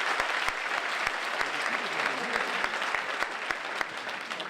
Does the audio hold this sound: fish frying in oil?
no